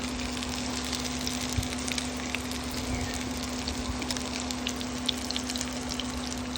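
Lumpia filled with cooked ground beef, shrimp and garlic sizzle in hot oil in a pan, a steady close crackle with scattered pops and a low hum underneath.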